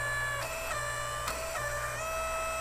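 An electric motor on a 2265 log splitter fitted with a log lifter kit strains while raising the lift, giving a steady loud whine with a low hum, and a few brief bumps in the drone. No one speaks.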